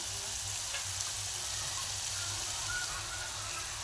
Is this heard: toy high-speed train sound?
no